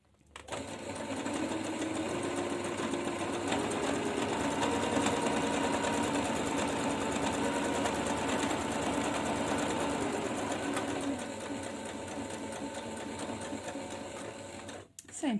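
Sewing machine stitching a cloth face mask, a continuous close mechanical whir running steadily for most of the stretch, then stopping near the end.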